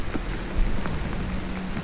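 Rain falls beside the Tisza river in November, a short stretch of steady, dense patter on nearby surfaces with a soft rushing background and no voices.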